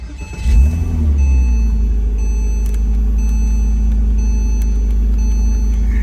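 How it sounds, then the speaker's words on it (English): A Porsche Boxster (987) engine turns over and catches, settling into a steady, loud idle hum that continues without a break. "Let me turn on the car."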